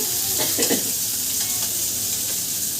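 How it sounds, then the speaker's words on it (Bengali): Small fish fry in a hot pan with a dense, steady sizzle up close, a few brief bursts of sharper crackle early on, and no talking. "দেখো ছোট মাছ রান্না করছে"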